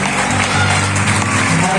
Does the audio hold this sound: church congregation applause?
yes